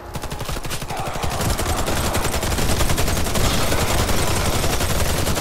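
Rapid automatic gunfire in the zombie mode of the shooter game Warface, a dense rattling burst of shots sustained for several seconds, loud and continuous with no voices over it.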